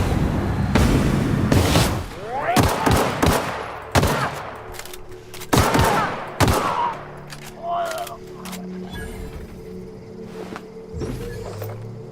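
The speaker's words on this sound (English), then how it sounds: "Probably shouldn't be shooting too much." Gunfire in the video game The Outer Worlds, with several loud, sharp shots in bursts during the first seven seconds, then a quieter stretch of game ambience with fainter hits.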